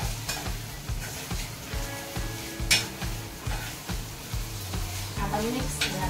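Sabudana (tapioca pearls) sizzling and frying in a pan over high heat while being stirred, with steady sizzle and repeated scraping stir strokes throughout; a faint voice is heard briefly.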